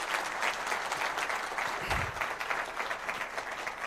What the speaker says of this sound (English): let us first as well clap for the CEO and for all of you for what was done.